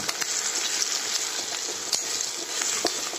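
Tomato, onion and garlic sizzle steadily in a hot pan for a chutney, a dense, even crackle of frying with occasional sharper pops and stirring scrapes, close and continuous with no talk.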